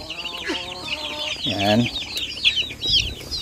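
Rhode Island Red chickens cluck and squawk in short bursts as they are caught by hand and put into a coop, with someone speaking briefly nearby.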